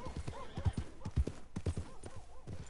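Horse hooves clip-clop on a horse farm in the video game Red Dead Redemption 2, a steady close rhythm of hoofbeats with a faint whinny-like tone mixed in.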